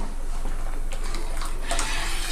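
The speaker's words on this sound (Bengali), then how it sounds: "বাকি দুধের মধ্যে কর্নফ্লেভার মিশিয়ে রেখেছিলাম সেটা এবার আমি এর মধ্যে ঢেলে দিচ্ছি" Milk mixed with cornflour is poured into a pot of milk for homemade kulfi, a steady liquid gush and splash that runs continuously throughout, with a brighter splashing burst near the end.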